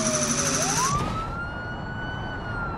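A modern police car siren in BeamNG Drive wails loud and close, its pitch sweeping upward after a brief electronic tone cuts out, then holding a long rising note.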